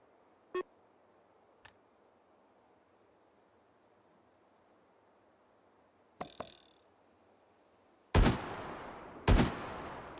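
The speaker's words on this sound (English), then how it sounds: "Let's see how good I am at skeet shooting here." Shotgun blasts during skeet shooting in the VR game Hot Dogs, Horseshoes & Hand Grenades: a few faint clicks and thumps, then two loud, booming shots a second apart with long decaying tails.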